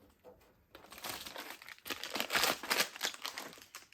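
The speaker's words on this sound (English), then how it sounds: "peel and remove." Backing paper peeling off military marking decals, heard as a close, crinkly tearing and crackling that runs for a few seconds on its own.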